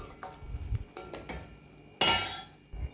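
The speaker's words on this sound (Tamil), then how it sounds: "இப்போ நம்ம ரைஸில் மிக்ஸ் பண்ணிக்கலாம்." Cooked rice is stirred in a pan for garlic rice, with a few soft scrapes and light clinks of a utensil against the pan, close by and fairly quiet.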